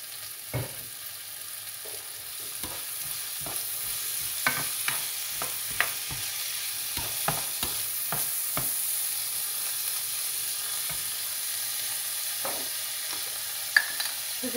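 Fresh garden vegetables with a drop of oil fry steadily in a pan, a soft continuous sizzle broken by occasional clicks and taps of stirring, heard up close with no talking.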